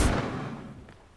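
A Bombarda blasting spell explodes in the Hogwarts Legacy video game, one sharp, loud, close boom that decays quickly into a fading rumble.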